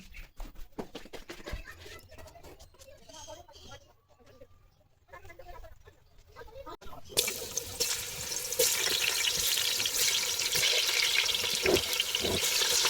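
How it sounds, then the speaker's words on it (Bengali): Potatoes fry with salt and turmeric in a pan for a budget biryani. The first half holds talk and kitchen clatter, then a loud, steady sizzle takes over and continues to the end. "নুন আর হলুদ দিয়ে আলুকে ভেজে নিতে হবে সবসময় একটু আলুটা ভেজেই নেওয়ার চেষ্টা করি আলুগুলো ভেজে নিচ্ছি"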